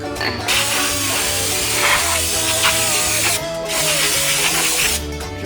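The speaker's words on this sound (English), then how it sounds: "you're gonna want to spray a bunch of brake cleaner" Brake cleaner sprayed onto the brake rotor of a 2002 Mitsubishi Lancer OZ Rally during a brake job, giving two long, close, steady hissing bursts with a short gap between them, over background music.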